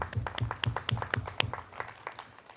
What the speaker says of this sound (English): here is my applause to all of you people.